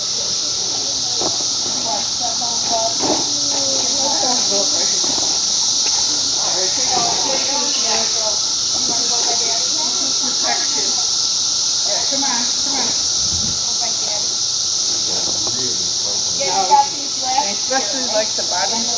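A dense, steady drone from a swarm of cicadas fills a backyard during the 2024 cicada emergence, holding level throughout while people talk over it nearby.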